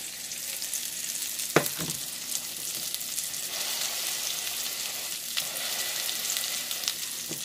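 Beyond Burger patties frying in butter with a few spices, a steady soft sizzle and crackle throughout, with a couple of sharp spatula or pan knocks near the start.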